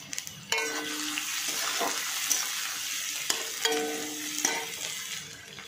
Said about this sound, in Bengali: কড়াতে তেল দিয়ে দিয়েছি, তেলটা কিন্তু গরমও হয়ে গেছে। আমি রসুন কুচানো দিয়ে দিলাম 2 চামচ, আদা কুচানো দিয়ে দিলাম 2 চামচ